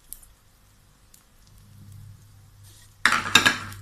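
Shallot tossed into a hot pan with garlic for a Thai pork cracking chili paste, a sudden burst of sizzling and metallic scraping of a utensil against the pan after quiet, close and loud.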